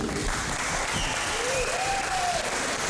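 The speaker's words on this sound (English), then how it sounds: "Give him a round of applause, people." A pro wrestling crowd at a Revolt event applauds a referee, a dense, loud wash of clapping that fills the whole moment, with a faint voice or whistle rising briefly in the middle.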